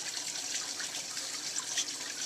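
Water trickles and splashes steadily as a sump pump, switched by a float, moves water through a 55-gallon coral reef aquarium. The flow is a soft, continuous babble with a few small drips.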